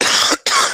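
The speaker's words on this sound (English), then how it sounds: "Forget my coughs." A man coughs twice in quick succession, loud and close, with a brief gap between the two harsh bursts.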